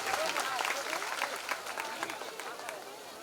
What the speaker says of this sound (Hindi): ऐसे गोल्डी जी महाराज को हम सभी जनता जनार्दन एक बार पुनः तालियां बजाते हुए